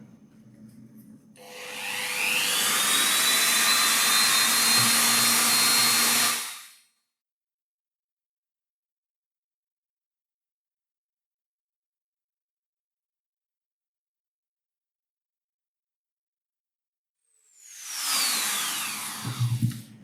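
A Dremel rotary tool fitted with a grinding head whines at high speed as it grinds a frame part, giving a loud buzzing burst of several seconds. Silence follows, then a second short burst spins up and winds down.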